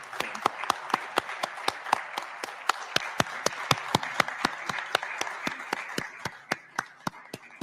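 An audience at a handing-over ceremony for National Assembly and provincial member lists gives a round of applause: a steady run of distinct, fairly sparse claps at a moderate distance, with no voices.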